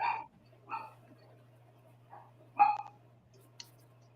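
A dog barking in a house during a tabletop role-playing game session: a few separate sharp yips and barks spaced over several seconds, moderately near, with a steady low hum underneath.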